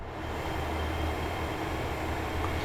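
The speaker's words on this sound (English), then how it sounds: "the train is just starting to roll away from the platform now" A GWR Class 802 train in Train Sim World 6 pulls away from the platform at Exeter St David's, giving a steady, continuous rumble with a faint high whine, heard alone throughout.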